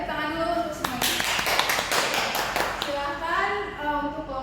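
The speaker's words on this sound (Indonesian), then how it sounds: "Tepuk tangan dulu untuk semuanya." A classroom group bursts into a round of applause for everyone, a couple of seconds of dense clapping, with a voice talking before and after it.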